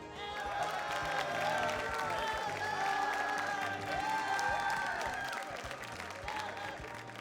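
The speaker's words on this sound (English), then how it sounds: "can I hear a loud crowd for Dart?" A packed crowd at a Super Smash Bros. Melee tournament's top-eight ceremony applauds and cheers steadily for the fourth-place player, a dense wall of clapping with whoops. An announcer's voice carries over the noise.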